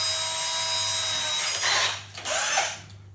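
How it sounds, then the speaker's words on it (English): A power drill with a 4mm bit bores finger holes into a carrot, a steady whirring drone that grinds as it cuts through the vegetable, then stops near the end. "so then I'm using a 4mm drill bit for the finger holes here."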